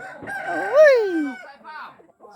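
A fighting rooster crows once, near and loud, in a full drawn-out cock-a-doodle-doo that rises and then falls away, with a few softer clucks after it.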